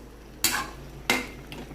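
Chicken kaldereta with milk being stirred in a pot, two distinct scraping clanks of a utensil against metal about half a second apart, then a faint third touch, over a quiet background.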